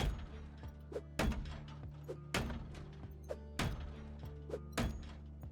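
Repeated heavy bashing on a door in the zombie survival game Project Zomboid: five loud, sharp wooden thuds at roughly one-second intervals, each with a brief rattling decay over a steady low hum.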